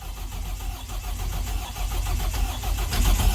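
The Barra engine in a Toyota Cressida cranks on a start attempt with a loud, steady mechanical churn and a growling drone close by. The sound builds slightly toward the end with no catch.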